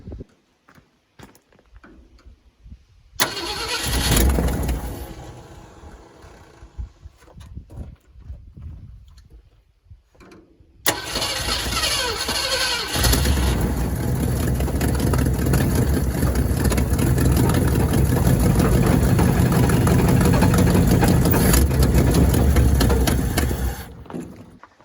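A 1967 Ford F100 pickup engine is cranked on a jumped solenoid with fuel poured into the carburetor; a brief rough burst is followed by a pause, then the engine catches and runs loud and steady at a rumbling idle until shut off.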